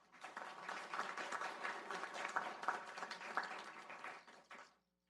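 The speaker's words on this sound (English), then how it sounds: "So let's give them a round of applause there." Audience applause at a community roundtable in Downey, steady clapping from a modest crowd that swells and holds for several seconds before tapering off and ending abruptly.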